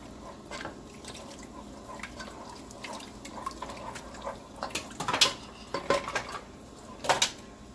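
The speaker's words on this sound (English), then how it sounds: "Whisking" Milk is whisked into a sauce in a pan, with soft, quiet metallic clinks and scrapes that grow busier and sharper toward the end.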